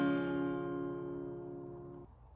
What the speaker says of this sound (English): So the first one you need to know how to play is a regular C.